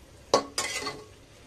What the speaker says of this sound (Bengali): এটাকে এবারে ভালোভাবে একটু কষিয়ে নেব।